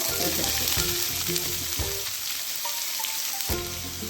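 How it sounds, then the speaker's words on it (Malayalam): Mustard seeds spluttering in hot oil while Kerala-style chickpea curry is made: steady close sizzling with sharp irregular pops and crackles throughout. "കടുക് പൊട്ടി തുടങ്ങിയിട്ടുണ്ട്"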